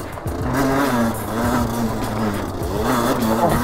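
Derbi Senda motorcycle engine climbing a forest hill, loud and close with the pitch rising and falling through several revs over rough rumble, no talking.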